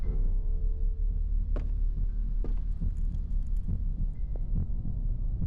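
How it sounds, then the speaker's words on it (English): A low, muffled heartbeat thuds steadily in the Song of Horror video game, beneath a constant dark hum with a few faint knocks. "I think I hear a heartbeat or something."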